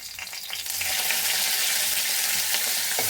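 Curry leaves hit hot oil on a high flame in a home kitchen, setting off a loud, close, rising sizzle that swells after the first half second and then holds as a steady crackling hiss.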